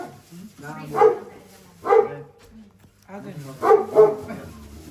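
A dog barks indoors in a short, sharp pattern, a single bark, then another, then a quick double, with people talking close by between and over the barks.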